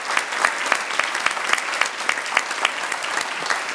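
Audience at a public schools banquet applauds the teachers, a steady wash of clapping with distinct sharp claps pulsing through, sustained and fairly loud with no talk over it.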